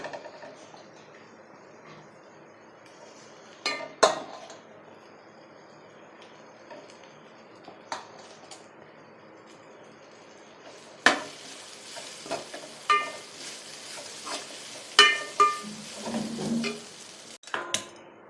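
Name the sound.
rice being added and stirred into fried vangi bath mixture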